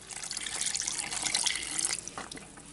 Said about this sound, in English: I'm going to add in the lemon juice